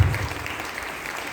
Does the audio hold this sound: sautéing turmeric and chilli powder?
no